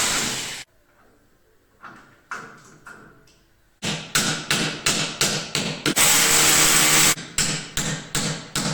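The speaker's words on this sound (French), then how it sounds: "Je vais venir percer les deux côtés, hein, avec une mèche de 6 pour rentrer mes chevilles à frapper." Hammer-in anchors are driven into holes drilled with a 6 mm bit in a plasterboard wall: after a quiet pause with a few light taps, a rapid series of loud, sharp hammer blows rings out nearby, with a brief drill burst midway.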